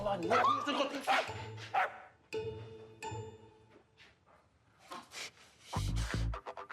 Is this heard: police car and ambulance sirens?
no